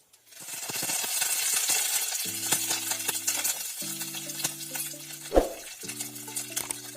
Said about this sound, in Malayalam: അതിലേക്ക് കടുകിട്ട് പൊട്ടിക്കാം